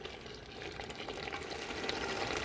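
Chicken pieces being fried and stirred in a pan for a thick masala gravy, a dense steady sizzle with light scraping, close and continuous without any voices.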